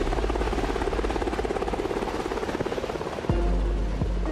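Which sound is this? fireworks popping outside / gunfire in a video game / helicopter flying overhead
helicopter flying overhead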